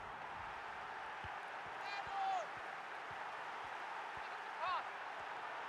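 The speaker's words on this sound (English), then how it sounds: "you have to say the crowd have been brilliant" A stadium crowd at a simulated France versus Morocco World Cup 2026 qualifier match in a FIFA video game, a broad continuous roar of distant cheering with a couple of brief whistle-like swells and low thuds.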